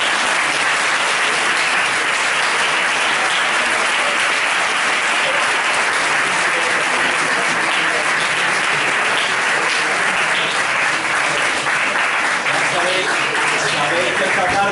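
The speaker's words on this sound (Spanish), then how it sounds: "vamos a despedirlo con un fuerte aplauso" Strong, steady applause from a seated audience at a history conference lecture bids farewell to the speaker, a dense even roar of clapping that holds without letup for nearly fifteen seconds.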